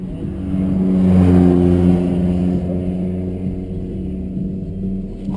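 A car engine revs up to a loud peak in the first two seconds, then settles into a lower, steady drone that fades gradually.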